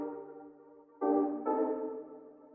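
Soft Analog Lab synth chords, EQ'd with lows cut and washed in spring-style and Valhalla Supermassive reverb, change twice in a slow sustained progression, mellow and alone.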